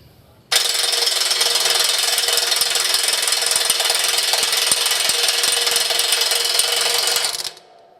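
A power tool runs at a tool expo, reversing a fastener in a torque demonstration: one loud, steady, high-pitched rattling whir holds for about seven seconds and then cuts off.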